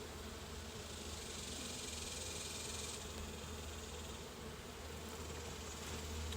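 Honey bees hum softly and steadily around an opened hive during a midsummer inspection, a faint continuous buzz with no one talking.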